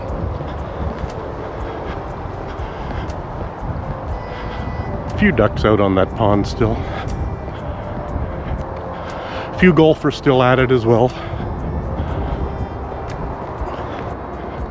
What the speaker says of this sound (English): The wind has blown in a lot of traffic noise today.